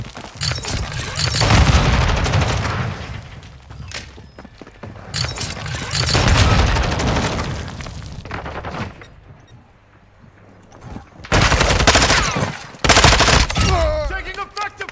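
Sustained automatic gunfire and bursts in the Modern Warfare video game, loud rattling volleys in repeated bursts separated by brief lulls, with a few explosive booms.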